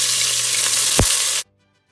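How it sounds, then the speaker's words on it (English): Loud, steady sizzling of tomatoes and onions frying in a hot pan, with a brief clink partway through, then the sizzle cuts off abruptly. "So now you are ready to start frying your tomatoes with your onions"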